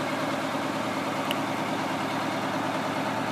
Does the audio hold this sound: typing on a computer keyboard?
no